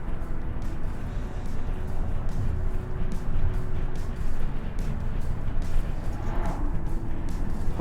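Steady car interior rumble while riding through France, a continuous low engine and road drone with faint ambient noise and no clear talk.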